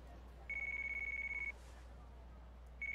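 A phone rings in Yakuza: Like A Dragon, giving a steady trilling ring for about a second, then a pause over a low hum before the ring starts again.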